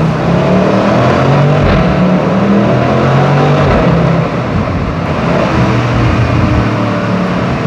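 A BMW M850i Gran Coupe engine drones loud and close from inside the cabin as it accelerates, with the exhaust popping and crackling under the steady roar throughout.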